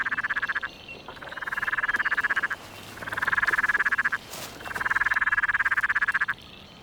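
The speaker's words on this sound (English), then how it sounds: "Peron tree frog, about 4 seconds." A Peron's tree frog calls near and clear, giving three long rattling trills of rapid pulses, each lasting a second or more and separated by short pauses, with no other sound.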